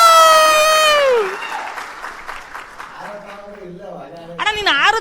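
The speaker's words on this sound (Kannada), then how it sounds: "ಬರ್ಲಿ ಚಪ್ಪಾಳೆ." At a Kannada comedy roast show, an audience gives a short burst of clapping. It comes right after a sustained musical tone and fades as voices take over.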